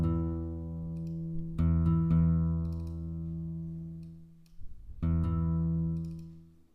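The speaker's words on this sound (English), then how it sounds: "I quite like this acoustic guitar sound. It's actually just from Omnisphere." An Omnisphere acoustic guitar patch played on an Eigenharp gives a few plucked notes that ring out and slowly decay. A soft chord sounds, then a couple more quick plucks, then a fresh strum after a short pause, all alone and fairly quiet.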